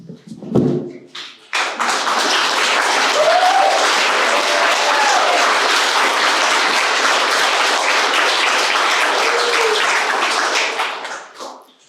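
A room at a public meeting breaks into sustained applause, many hands clapping steadily for about ten seconds after a brief thump, then fading out.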